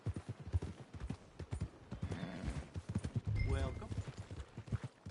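Horse hooves clip-clop steadily in Red Dead Redemption 2 as a rider approaches the stables, with a horse whinnying midway and someone talking over the regular hoof beats.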